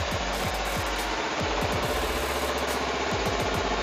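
A Kawasaki Ninja 250 FI with its standard exhaust idles close by, producing a steady, smooth, even hum with a soft rhythmic low pulse and no voices over it.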